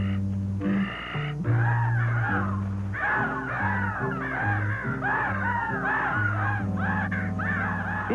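Cartoon crow cawing repeatedly, harsh loud caws in a rapid series over orchestral cartoon music, close and prominent throughout.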